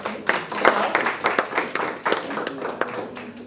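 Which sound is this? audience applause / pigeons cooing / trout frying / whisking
audience applause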